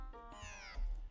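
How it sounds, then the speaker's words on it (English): A pet cat lets out a single short meow, rising then falling in pitch, fairly quiet and close, with faint low room rumble underneath. "that was my cat."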